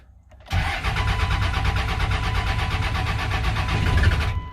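A 1999 24-valve Cummins diesel engine catches after two years unused, a brief crank then a sudden loud start settling into a steady, rough, clattering idle close by.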